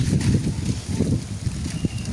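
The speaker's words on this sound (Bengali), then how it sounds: "দেখেন কি বাতাস নদীর পানি আর এই খালের পানি একাকার হয়ে গেছে" Strong wind gusts buffet the microphone in low, rumbling bursts by a flooded riverside village, continuous and close, with no other clear sounds.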